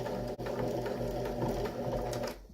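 Sewing machine running steadily on a home decor project, a close, continuous rapid mechanical hum with even stitching rhythm, a brief dip near the start and a slowdown at the very end.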